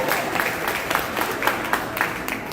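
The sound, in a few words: audience applause for district attorneys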